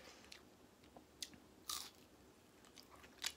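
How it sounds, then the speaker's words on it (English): Crisp crunches from biting into a breaded mozzarella stick, a few sharp bursts spaced across a quiet stretch with soft chewing between, close to the microphone. "Do you hear that crunch?"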